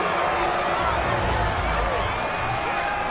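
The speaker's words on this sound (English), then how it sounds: "Plenty of shouts from this crowd as they watch the replay" Football stadium crowd roaring and shouting continuously while watching a replay, a dense wash of many voices at steady loudness.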